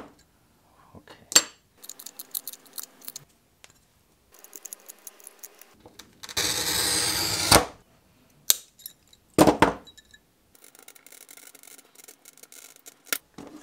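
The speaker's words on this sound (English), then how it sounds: "I think I'm gonna use the grosing pliers for this one, trying to just grip it and pull it apart, pull it out of the glass." Grozing pliers grip and snap pieces of stained glass, giving sharp clicks and brittle cracks, scattered glassy clinks, and one brief grinding crunch as the glass is pulled apart.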